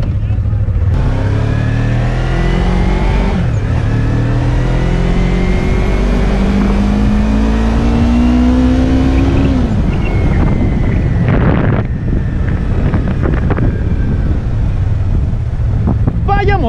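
A Yamaha MT-03 twin-cylinder motorcycle accelerates hard, its engine note rising through gears with smooth climbing pitch sweeps, under heavy wind rush, loud and continuous.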